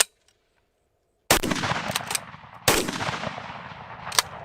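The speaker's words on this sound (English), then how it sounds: "I'm just gonna shoot at the 15-yard target" Two sharp gunshots from a pistol fitted with a UUQ Eagle C28 red dot sight, fired at a 15-yard target outdoors, loud close cracks about a second and a half apart, each trailing a reverberating tail.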